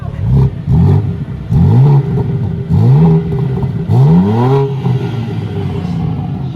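A BMW M3 Competition's engine revs repeatedly as the car accelerates, several rising-and-falling throttle blips heard loud and close from inside the cabin.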